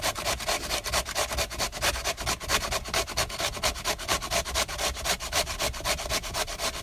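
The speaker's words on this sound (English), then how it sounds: "So grate as much as you can" Squash being grated by hand for a laksa, a steady rapid series of close, raspy scraping strokes in an even rhythm, with no talking.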